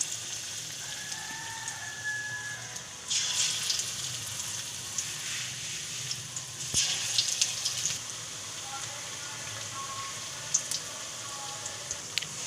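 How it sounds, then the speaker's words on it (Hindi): Spinach and potato pakoras fry in hot oil in a kadhai, giving a faint, continuous crackling sizzle with a few brighter bursts of bubbling spread across the stretch. "पकौड़े जो है फ्राई हो रहे हैं।"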